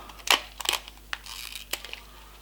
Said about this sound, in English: I'm just gonna empty this whole bag into a good old-fashioned 3-litre milk